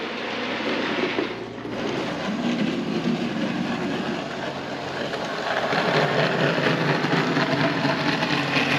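A steady, rumbling whir of a small model train track-cleaning car rolling continuously around its layout, with a constant mechanical hum throughout.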